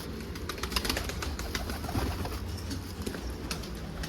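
Pigeons coo softly at a moderate distance, with low murmuring calls over a steady background and a few faint rustles.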